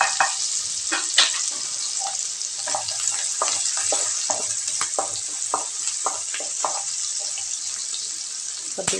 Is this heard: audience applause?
no